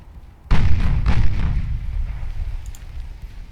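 Warship 8-inch guns fire in the naval game Ultimate Admiral Dreadnoughts: a sudden heavy boom, then a second blast that rolls into a long rumbling decay, loud and unaccompanied by talk.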